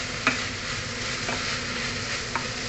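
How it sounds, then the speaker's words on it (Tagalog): Marinated egg frying in a hot pan beside minced beef and green beans over a strong flame, a steady close sizzle with a few faint clinks of a utensil. "iprito ko na rin yung ating di-marinate kaganinang itlog"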